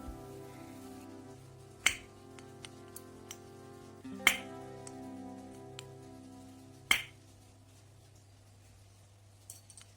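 Three sharp, clear metallic clicks spaced a few seconds apart as a valve stem is pulled against its guide in a 4-stroke motorcycle engine, close and isolated over a quiet background.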